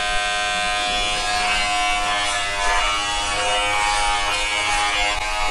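A Rainbow electric shaving machine trimmer runs steadily and close by, a continuous dense motor buzz that holds level throughout with no talking.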